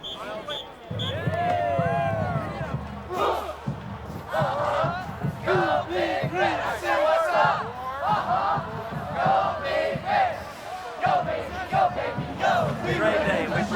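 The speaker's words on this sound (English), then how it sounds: "So many people cheering." A big crowd at a 1999 Nebraska Cornhuskers football game roars and cheers throughout, with voices shouting over a steady stadium din while people talk close by.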